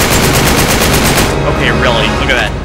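Rapid, loud automatic gunfire in the video game Uncharted 3: Drake's Deception, a rhythmic burst of shots lasting about a second, after which a voice talks over the fading noise.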